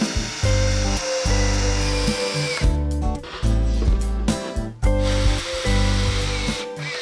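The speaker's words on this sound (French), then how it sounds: "On préfore." A power drill pre-drills holes in MDF panels for a console table, with several loud, close bursts of whirring that stop and restart in quick succession.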